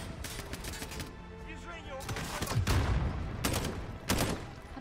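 Dense gunfire from the Call of Duty Modern Warfare video game, with sustained rattling bursts and sharp reports over a constant loud battle din, while a player talks at times.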